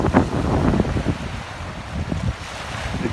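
Gusty wind buffets the microphone with uneven rumbling bursts over Cayuga Lake, with a faint wash of water in the background.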